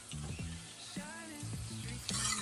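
Garlic and red chili paste sizzles as it is added to a hot pan, a steady moderate frying hiss with faint scraping and stirring clicks, close by and without speech.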